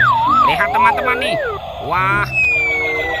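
A toy fire rescue helicopter sounds a loud, close, warbling electronic siren with wavering and rising tones, while a person talks over it.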